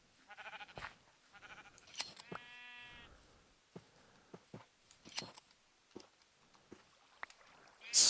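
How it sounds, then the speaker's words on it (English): Sheep in the Minecraft video game bleat in a few short, nasal calls in the first seconds, then other sharp game effects and clicks follow, with no talking over them. "So these are just our free-range sheep."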